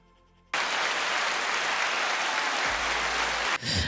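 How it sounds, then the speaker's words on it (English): Applause breaks out suddenly and holds as a dense, loud clatter of clapping for about three seconds before cutting off abruptly, with no voices over it. "Let me give myself some applause for that."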